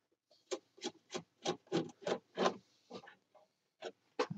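Back panel being worked off an Admiral AW5 mantle radio: a steady run of about a dozen short rubbing, scraping strokes, close and fairly loud, with brief pauses and no talking.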